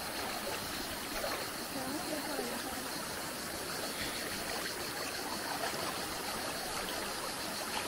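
The River Zeta in Montenegro rushes and gurgles as a steady, close wash of flowing water with no breaks, alone and fairly loud throughout.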